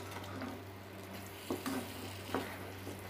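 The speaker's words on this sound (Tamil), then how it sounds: "அடுப்பை வந்து ஸ்லோவிலே வச்சு மெதுவாக கிண்டுங்க." Coconut burfi mixture being slowly stirred in a pan over a low flame, soft continuous sizzling with a few light scraping strokes of the spoon against the pan.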